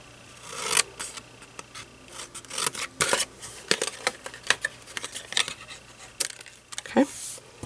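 Scissors snipping card stock and paper while trimming pieces for a Stampin' Up! birthday make-and-take card packet, a run of short crisp cuts and rustles close by.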